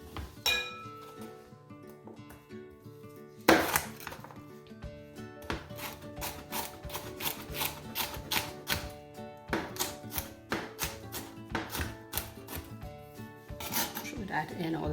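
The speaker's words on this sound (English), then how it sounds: "I'm going to just chop these pimento peppers and put them in" A knife chops pimento peppers on a board in a home kitchen during Trinidadian cooking, giving rapid, fairly even taps in a steady run, with occasional clinks of utensils and dishes.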